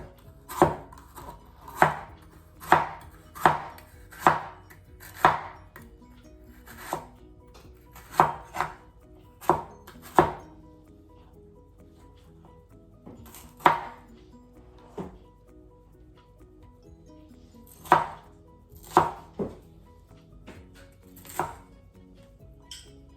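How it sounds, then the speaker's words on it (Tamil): Bitter melon being chopped on a board with a knife, sharp close knocks in quick bursts of several strokes separated by short pauses, fairly loud with nothing else over them. "நாங்கள் இந்த பாவக்காயெல்லாம் வெட்டி எடுத்தாச்சு"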